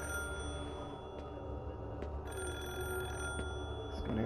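A telephone rings in the horror video game Forbidden Siren, a steady repeating ring over a dense, dark ambient hum with no talk.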